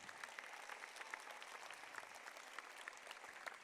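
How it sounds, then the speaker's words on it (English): Steady applause from an audience at an elementary school fifth-grade promotion ceremony, honoring a class. The clapping is dense and even, fairly distant and soft, and runs without a break, with no talk over it. "Let's give Ms. Gomez's class a big round of applause"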